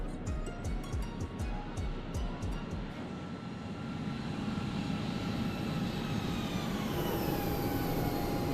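Aircraft flyby in Microsoft Flight Simulator, a steady engine roar that builds and sweeps past close up, with a faint pitched whine, heard alone without talk.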